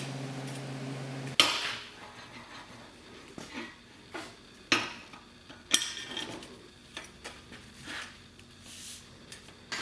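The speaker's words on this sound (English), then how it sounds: "once you get it all set up, clamp it together" Steel tubing pieces for a 1971 GMC truck build being clamped together, with sharp metallic clanks and knocks scattered irregularly over about ten seconds in a quiet shop, no talking.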